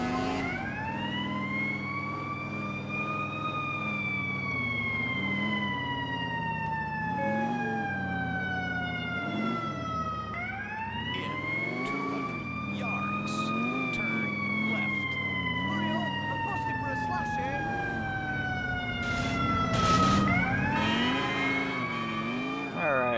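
Fire engine sirens from the game GTA IV, a wailing standard siren whose pitch sweeps up and down in long cycles, then a faster alternating tone, loud and continuous over a steady engine rumble.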